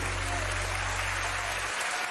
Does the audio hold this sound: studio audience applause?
yes